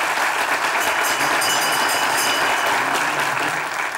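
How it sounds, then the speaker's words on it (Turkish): Loud, sustained applause from a television comedy show studio audience, a steady dense clapping that fills the whole stretch without pause. "Alkışlar gelsin genç ekibimize."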